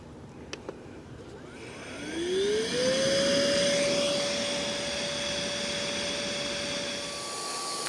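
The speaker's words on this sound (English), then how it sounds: "And now we'll deflate." An iRocker electric air pump deflating an inflatable board runs continuously, its motor whine rising in pitch then holding steady with a rushing airflow hiss.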